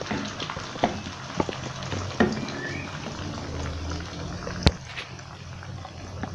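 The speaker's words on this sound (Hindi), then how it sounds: "अब हम इनको 5 से 6 मिनट तक अच्छी तरह से फ्राई करेंगे" Potato chips for crispy restaurant-style fries fry in hot oil over a low flame, a steady close bubbling sizzle with occasional sharp pops and crackles and light stirring.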